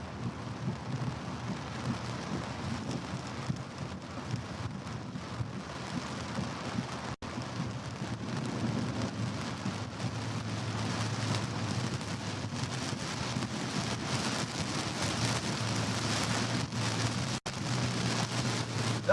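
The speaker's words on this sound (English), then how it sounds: "Now we're just stuck in a rainstorm." Steady rain pours down during a rainstorm on a tornado chase, a close, even hiss of drops drumming on a surface with faint low rumbles, holding constant and swelling slightly toward the end, with no voices.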